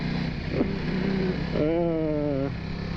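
Race motorcycle engine on track at Cadwell Park, a steady loud drone that rises in pitch from about halfway through as the throttle opens, continuous and close throughout.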